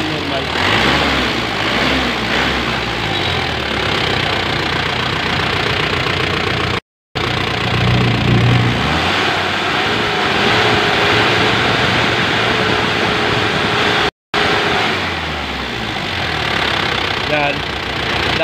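An Isuzu Crosswind diesel engine that had been stalling on throttle release runs and idles steadily, a loud, continuous rumbling drone with a faint knocking texture, broken by two brief cuts.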